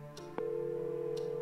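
Telephone ringing inside the video game Scratches, a steady electronic ring tone that starts sharply and holds on continuously, with a couple of faint ticks around it.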